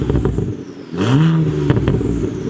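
A car exhaust on its standard map, with no burble or launch control, revs up sharply once from a rough idle, holds briefly and drops back, loud and close.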